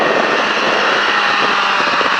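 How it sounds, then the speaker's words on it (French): A motorcycle engine roars loudly and steadily on a training track at La Ferté Gaucher, a continuous close-up drone from a throttled bike with no speech. "filet de gaz, je relève la moto et j'accélère."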